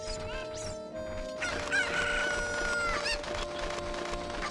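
Chickens clucking and a rooster-like crow from the video game The Legend of Zelda: Ocarina of Time, synthetic fowl calls layered over steady game music and ambient tones for several seconds.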